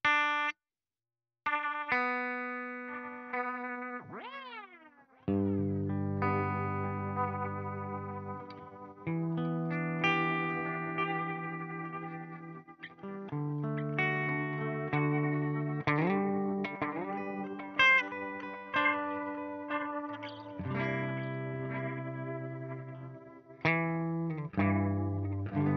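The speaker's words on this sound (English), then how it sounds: "Let's ramp that. We're going to get a more unstable, degraded sound." A guitar plays notes and chords through a Hologram Electronics Chroma Console delay pedal. The repeats wobble, warble and degrade, giving a smeared, unstable echo with no voices.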